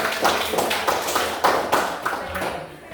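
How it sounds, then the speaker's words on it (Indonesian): Classroom applause from students, a burst of uneven, fairly close hand clapping with distinct individual claps that gradually thins out toward the end. "kasih tepuk tangan luar biasa"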